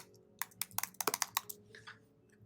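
Typing on a computer keyboard while entering a word into a website page field, a quick burst of about ten crisp, close key clicks in an irregular rhythm, then a few softer taps trailing off.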